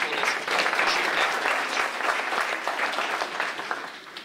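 Applause from an audience at an evening public meeting in a school facility, a sustained dense clapping from a large crowd that fades gradually toward the end.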